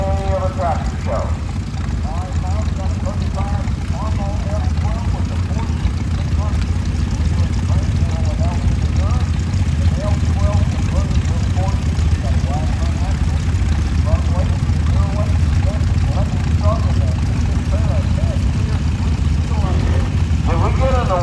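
Several tractor engines idle together at an outdoor tractor parade, a loud, steady low rumble with chugging under it, while a voice talks over the engines almost throughout.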